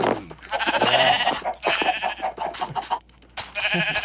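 Sheep bleating in the Minecraft video game, a few short synthetic bleats repeating over steady game sounds.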